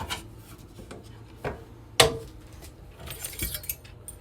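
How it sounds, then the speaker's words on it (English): A ring of RV door keys for a 2022 Forest River Salem FSX 177BH travel trailer jangles and clinks in a few short metallic bursts, the sharpest near the middle, with soft handling rubs in between. "For your keys, main doors are gonna be the purple ones"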